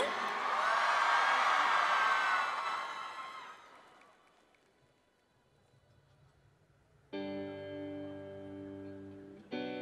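Concert audience at a Taiwanese pop music awards show cheers and whoops loudly for the first few seconds, then fades to quiet before a band starts playing.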